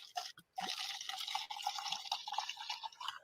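A drink is poured into a glass, a close, bright, bubbling trickle of liquid that runs for about three seconds with brief gurgling breaks and no talking.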